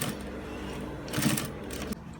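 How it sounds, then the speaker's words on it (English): A sewing machine stitches along a shirt cuff, a steady fast mechanical whir with rhythmic needle clatter, close and clear, picking up briefly before stopping. "As you're sewing, make sure you stretch this side and align this one so that you catch it on top."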